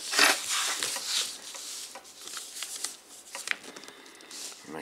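Sheet of paper being folded and creased for a competition paper glider, with crisp rustles, rubs and sharp crinkles close by, some soft speech in the background.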